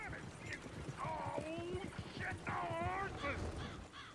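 A horse's hooves clip-clop in Red Dead Redemption 2 and it gives a brief whinny, with a dog barking and people talking over it.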